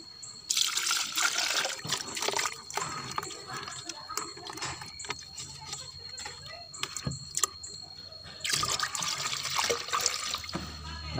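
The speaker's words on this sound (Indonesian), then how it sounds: "Kita masukkan PSB 1 liter sahabat." PSB bacteria liquid, one liter, is poured into a fertilizer mix, making a close, splashing, trickling stream in two bursts with softer handling clinks between them.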